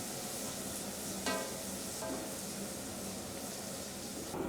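Sliced onions and cut green chillies fry in hot oil with spices for kuska, a plain biryani cooked for 30 people, giving a steady, close sizzle with a few brief scraping stirs.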